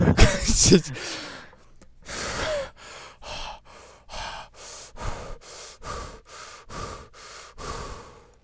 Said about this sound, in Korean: 숨소리가 거칠군요